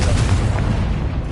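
A loud, sustained explosive boom from a Confringo fire spell cast in Hogwarts Legacy, heavy and rumbling for well over a second with a dense low-end roar and no talk over it.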